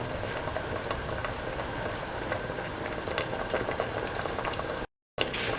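A pressure cooker cooks a potato and coconut milk mixture, giving a steady bubbling and hissing boil that runs evenly throughout and drops out briefly near the end.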